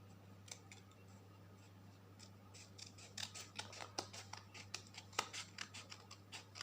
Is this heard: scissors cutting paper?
yes